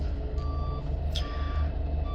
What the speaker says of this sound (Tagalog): Yan yung aming pump truck.